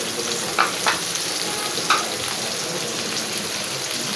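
Chopped onions sizzle steadily in hot oil with bay leaf and ground dried shrimp, a dense continuous frying hiss broken by a few sharp spatula scrapes and stirs near the start and middle.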